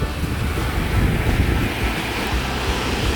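Sea waves breaking on a beach shore where people cast fishing nets: a steady rushing wash of surf with wind noise on the microphone, loud and continuous.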